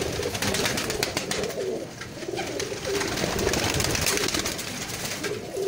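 Breeder pigeons at a loft in Bhati Gate, Lahore, coo in a low, steady, overlapping murmur close by, with the flock's rolling calls continuing throughout without talk.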